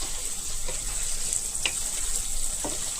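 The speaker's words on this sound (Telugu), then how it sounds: "ఓన్లీ ఆయిల్ మాత్రమే మిగిలేంత వరకు కూడా ఇలాగ హైలో వేయించాలి" Chicken frying on high heat in oil, a constant bright sizzle throughout with a few soft clinks and scrapes of stirring.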